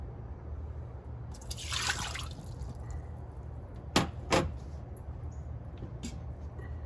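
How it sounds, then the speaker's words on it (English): Water is poured into an Instant Pot fitted with its trivet, heard as a brief soft splash followed by two sharp drips or clinks over a low steady hum in a quiet kitchen. "And now I'm going to add 1 cup of water."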